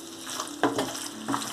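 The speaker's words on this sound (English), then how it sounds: "Mix all together." Brinjal and potato curry sizzles steadily in a pan as a spoon stirs through it, with a couple of brief scraping pushes over the continuous close frying hiss.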